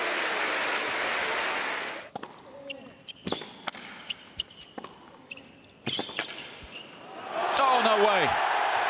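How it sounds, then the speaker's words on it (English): Tennis crowd applauding a spectacular point by teenage Jannik Sinner, with Djokovic among those clapping; a broad wash of clapping and cheering opens the rally, sharp ball strikes and bounces follow, then loud applause swells again at the end. "Djokovic joining the applause on that occasion."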